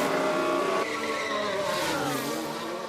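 Formula 1 car in the F1 Manager 22 video game, a Ferrari driven by Leclerc diving into the pits: a loud, steady high-pitched engine whine that shifts pitch as it slows, with no talk over it.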